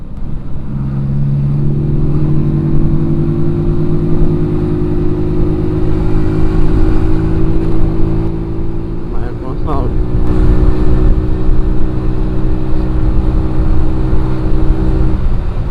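A motorbike with a top speed of 80 km/h is ridden in a group on the road, its engine a loud, steady droning hum that holds throughout with slight rises in pitch.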